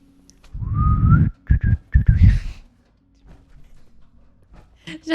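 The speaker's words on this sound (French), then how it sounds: "Faut que j'apprenne à siffler." A person whistling in a Fallout 4 game session: a rising whistled note followed by several short chirpy bursts, close and loud, then quiet rustling and faint movement.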